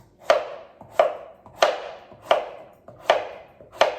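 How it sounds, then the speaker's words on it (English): A knife slicing delicata squash cut side down on a cutting board, six evenly spaced crisp chops about two-thirds of a second apart, close and clear against a quiet room. "I put the cut side of the squash straight down, and then I'm cutting slices."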